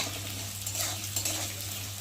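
Onions frying in oil in a home kitchen pan, a steady close sizzle with a low hum underneath and a few soft stirring scrapes, no talking.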